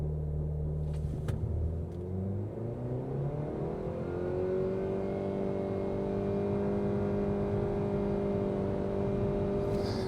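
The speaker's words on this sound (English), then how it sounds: "let's stop here and do a quick 0 to 60, see how this thing accelerates" A 2026 Nissan Sentra with a CVT accelerates hard from a stop, its engine rumble climbing steadily to a sustained drone heard from inside the cabin.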